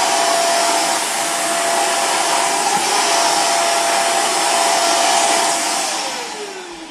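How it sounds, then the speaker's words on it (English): A Dirt Devil 360° Reach Pro bagless stick vacuum runs with a steady, loud motorized whine and broadband airflow noise, then its pitch drops and it winds down near the end. "All I have really time for is to vacuum up the rest of this stuff"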